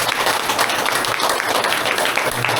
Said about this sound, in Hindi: तो डॉक्टर न्यू सर के लिए एक जोरदार ताली होनी चाहिए।